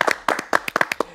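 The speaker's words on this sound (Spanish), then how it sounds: "un aplauso para la gente de Los Mina" A small group claps briefly and close by, with sharp, uneven hand claps in a quick, loose rhythm.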